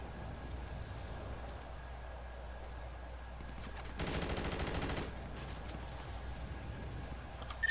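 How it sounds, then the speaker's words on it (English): A single rapid burst of gunfire from police officers in Grand Theft Auto V rattles out for about a second against a quiet, low ambient backdrop, followed by a faint click near the end. "Shots fired by officers."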